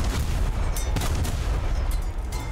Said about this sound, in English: Artillery is hitting.